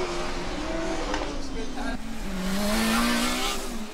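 A Formula Student race car at a historic autocross event, its engine note rising and falling steadily through a run as it heads back toward the infield, with a commentator talking over it.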